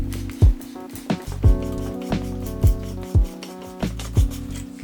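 The adjustment collar of a Wilfa Uniform flat-burr coffee grinder is twisted repeatedly, giving a series of close, scraping rubs with a gritty rasp in an uneven rhythm of about eight turns.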